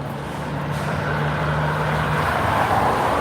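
Steady road traffic with cars and trucks passing nearby, a continuous broad rumble carrying a low engine drone, growing slightly louder toward the end and heard alone with no voices.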